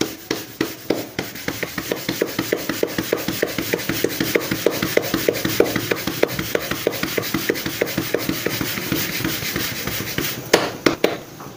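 Bhakri flatbread dough is patted out by hand along its edges, giving a quick, steady run of close, dull slaps and rubs, roughly several per second, with no talking.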